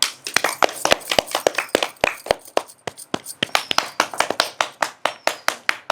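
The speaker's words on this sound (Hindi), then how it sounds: "ताली बजाओ जा" An audience claps in time at a comedic wedding skit, a run of sharp, regular hand claps, loud and close, with faint voices underneath.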